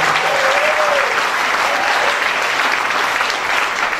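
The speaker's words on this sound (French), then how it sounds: "on va applaudir le Pasteur Paul" A church congregation in Togo applauds a pastor with loud, sustained clapping that fills the room evenly from start to finish, with no speech over it.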